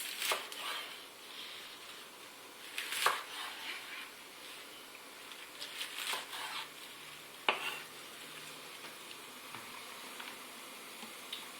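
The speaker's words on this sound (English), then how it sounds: "You can hear it sizzling" Spinach cooking in a pan on a stove at maximum heat, with a soft continuous sizzle broken by occasional louder stirring scrapes and clanks of utensil against pan, fairly faint overall.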